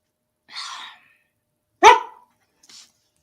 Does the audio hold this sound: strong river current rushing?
no